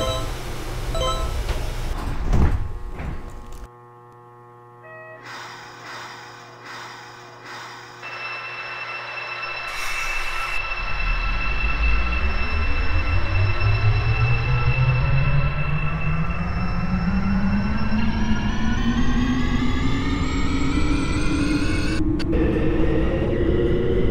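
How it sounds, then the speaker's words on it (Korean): A driverless Daegu Metro Line 4 train in a train simulator game pulls away and picks up speed, a deep rumble and rising motor whine building steadily after a brief quiet pause, loud and continuous. "대구도시철도 4호선은 최첨단 설비를 갖추고 무인으로 운행되는 열차입니다."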